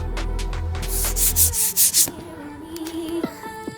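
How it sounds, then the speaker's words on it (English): Sandpaper rubs across body filler on a Vauxhall Calibra L.E. bumper in quick back-and-forth strokes, a close, rasping scrape that swells in several short passes and then fades to lighter rubbing. "Time to sand it flat."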